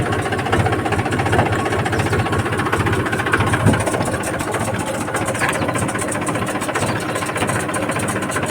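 Tractor engine running on a farm while drip irrigation pipes are wound up, a steady loud rumbling idle with rapid knocking throb throughout.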